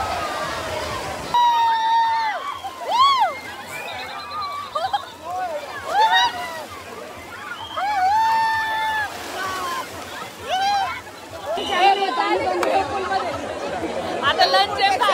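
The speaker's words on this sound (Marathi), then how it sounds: "हे बघा गर्दी." Busy crowd at the Great Escape water park, with babble, shouts and children's voices mixing over splashing water, loud and close, while someone talks over it.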